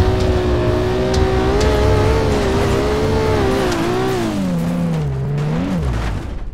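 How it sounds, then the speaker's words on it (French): A Toyota Supra straining to pick up speed while towing a heavy 1.5-tonne trailer, its engine droning loudly and close with a slowly rising and wavering pitch, then dipping at the end. "La Supra a du mal à prendre de la vitesse."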